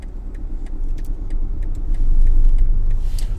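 A learner driver's car engine rumbles steadily and builds slightly as power is fed in to move off, a close low hum with no talk over it.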